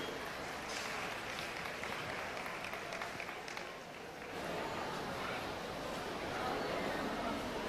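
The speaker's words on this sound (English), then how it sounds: "Let's have a round of applause for our Class 3 exhibitors." Spectators at a county youth fair steer show give a faint, steady round of applause that carries on throughout, with background chatter in a large livestock arena.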